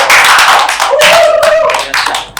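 Dense, close clapping from a stand-up comedy audience in Palangka Raya, a continuous burst of many hands that thins out toward the end.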